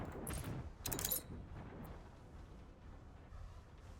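Battle cruiser broadsides opening fire in the strategy game Anno 1800: two loud bursts of cannon blasts in quick succession near the start, then a rumbling decay of distant explosions trailing away.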